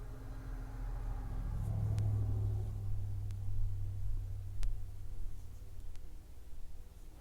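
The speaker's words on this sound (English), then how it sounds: "Hopefully you're not hearing too much of the traffic noise outside my window" Low, steady traffic rumble drifts in from outside, a continuous drone of passing cars with a few faint clicks on top.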